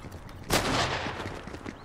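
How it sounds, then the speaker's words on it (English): Gunfire from a weapon in the video game Fortnite: one sharp blast cracks out mid-clip and rolls into a short, noisy tail, with faint thuds before and after. "Someone attacking me with his gun"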